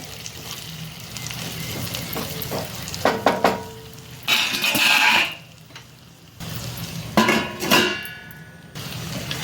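A lid set down on a pan of okra cooking with masala, giving a few sharp metallic clinks and knocks over a soft background sizzle, with brief louder clatter in between.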